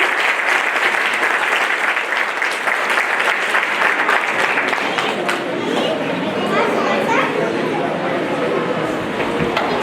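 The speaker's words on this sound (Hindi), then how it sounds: "जोरदार तालियों के साथ" Loud, dense applause from the audience at the closing ceremony of an anti-drug campaign at a police training school in Pachmarhi. It sustains for ten seconds as a police constable is called to the stage, with crowd chatter mixed in.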